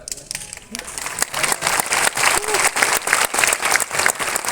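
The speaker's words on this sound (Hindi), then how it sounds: "आपने ताली बजा ली" A seated hall audience at a motivational talk breaks into applause, starting lighter and swelling into a steady, dense clapping of many hands that carries on through to the end.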